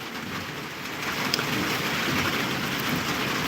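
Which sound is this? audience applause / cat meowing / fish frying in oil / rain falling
rain falling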